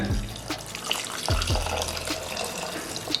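Water pours and splashes into a pressure cooker pot for mutton dalcha, a steady running gush with a few small sloshes and clinks, close by and without voices.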